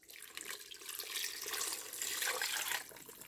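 Cooking liquid for homemade Spanish sardines of bangus (milkfish), flavored with bay leaf and red chilies, is poured into a pressure-cooker pot in a continuous splashing, gurgling stream lasting a few seconds, with no talk.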